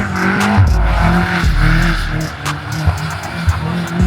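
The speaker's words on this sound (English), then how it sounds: "The car is currently going sideways against my will." BMW M8 Competition sliding sideways on a snowy street at night, a loud, sustained engine roar with low rumbling and tire noise throughout, continuous and close.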